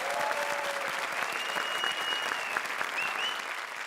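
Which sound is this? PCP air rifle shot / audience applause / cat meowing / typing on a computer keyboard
audience applause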